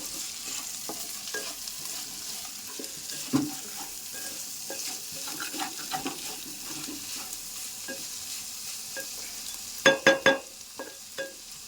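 Bitter gourd pieces frying in a pan, a steady sizzle under occasional stirring scrapes, with a few loud knocks of the spoon against the pan near the end, no talking.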